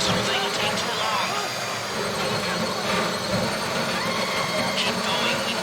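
A drill bores into a safe-deposit box in the GTA Online heist game, giving a continuous loud mechanical whine and grind with no breaks. A voice talks over it.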